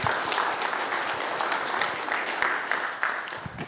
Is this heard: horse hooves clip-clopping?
no